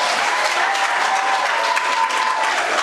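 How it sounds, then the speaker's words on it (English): Sustained loud applause from an audience at a county special meeting on data centers, dense steady clapping filling the room without pause. "if you can't hear over the clapping"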